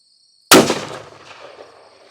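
A single sharp, loud report from a Savage 7mm Backcountry rifle fired outdoors at a target, its blast decaying into a long rolling echo with no voices.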